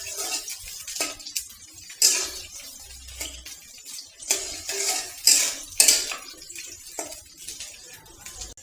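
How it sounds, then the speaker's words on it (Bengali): A metal spoon stirs chopped onions in oil in a cooking pot, scraping and clinking against the sides in irregular strokes close by, with no talking. "তেল দিয়ে দিচ্ছি, তারপরে পেঁয়াজ কুচি, পেঁয়াজটাকে একটু নাড়াচাড়া করে"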